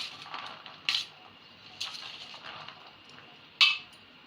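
A spoon stirs chopped tomato and onion into chana chaat in a bowl, giving soft scraping with three sharp metallic clinks spaced about a second apart.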